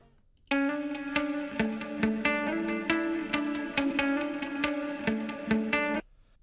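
A bright, plucked guitar melody, repeated notes in a steady rhythm, processed with effects over a synthetic backing, loud and clean with no talking.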